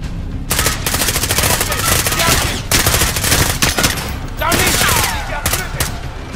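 Sustained automatic machine gun fire from a Call of Duty: Modern Warfare battle, loud, dense bursts running almost continuously with brief gaps, mixed with scattered gunshots and combat noise.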